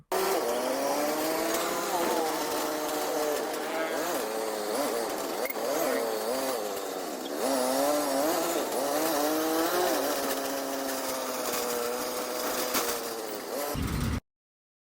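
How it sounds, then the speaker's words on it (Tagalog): A motorized tricycle drives along a highway through traffic, its engine buzzing and rising and falling in pitch as it accelerates and slows, loud and continuous throughout. "Nakasakay po kami dito sa tricycle. Asawa ko po ang driver."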